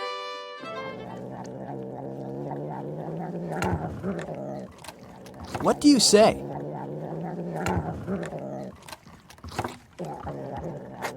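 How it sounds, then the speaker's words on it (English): A cat purrs in a steady, rumbling drone, with a person briefly speaking partway through. "it's the sound of a purring cat."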